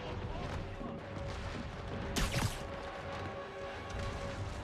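A sudden explosion bursts out of the noisy in-game action of Marvel's Spider-Man Remastered, a short loud blast with a rushing tail standing out over a constant rumble of background sound.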